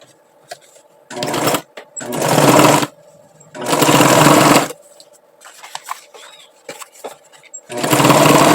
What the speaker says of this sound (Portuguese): E agora eu vou lá em cima e costuro.